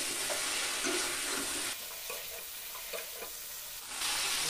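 Fried jackfruit and potato being sautéed in a thick spice paste, giving a continuous close sizzle with soft rhythmic stirring strokes that drops briefly in level midway and then surges back, with no talking.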